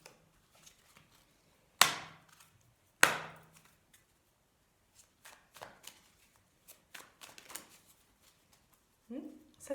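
A deck of oracle cards is shuffled and handled for a reading, with two sharp riffle bursts followed by scattered soft card slaps and rustles, close and fairly quiet, with a voice speaking at times.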